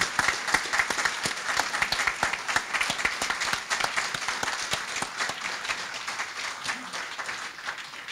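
Steady, dense audience applause fills a homeowner association's annual awards ceremony, many hands clapping together at an even level throughout with no pauses.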